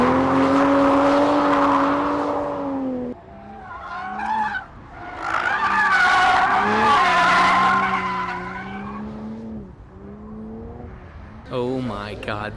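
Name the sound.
Toyota Supra skidding sideways on race track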